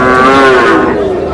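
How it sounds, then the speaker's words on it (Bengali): A young Sahiwal bull calf at a farm sale gives one long, loud, close lowing moo that wavers and holds steady before tapering off, with no talk over it. "বেশ সুন্দর, শাহিওয়ালের ষাঁড়।"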